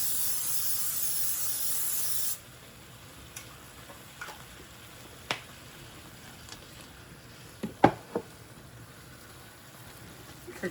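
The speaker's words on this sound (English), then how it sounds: "I'm going to spray my pan so it doesn't stick." A steady hiss of cooking spray onto a hot pan lasts about two seconds, followed by quiet sizzling with scattered clicks and clinks of the pan.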